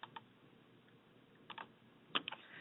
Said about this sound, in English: by typing in the name of the server